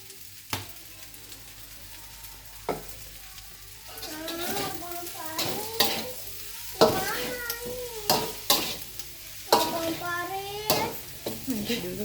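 Nasi goreng fried rice with kecap being stir-fried, with a steady sizzle and repeated scraping stirs throughout, while a voice speaks at intervals over the cooking.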